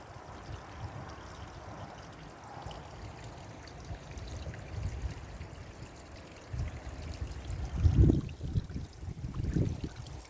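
A small stream in a garden trickles and burbles steadily, with soft splashy gurgles that swell louder toward the end.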